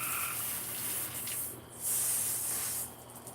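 Tap water runs steadily in a hissing, splashing stream while a cutting board is rinsed at an outdoor sink during fish cleaning, close and fairly loud, briefly swelling louder midway as the flow hits the board.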